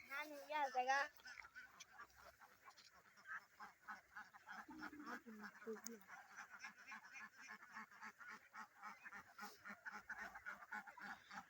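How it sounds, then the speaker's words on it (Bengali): Young ducklings on a large duck farm foraging for leftover grain in a harvested rice field, giving repeated soft quacks and peeps close by, with a person talking over them. "এগুলি সব হচ্ছে হাঁসের বাচ্চা হ্যাঁ বাচ্চা হাঁস"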